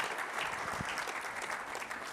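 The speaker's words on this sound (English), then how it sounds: "Can everyone give a bigger round of applause for Claire today?" Audience applause at a CEO Connect business event in Sydney, steady dense clapping from a crowd sustained at an even level for a couple of seconds.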